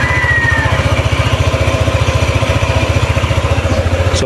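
A QJ Motor ATR 160 scooter engine idles steadily up close, its fast, even putter holding a constant rhythm throughout with no voices.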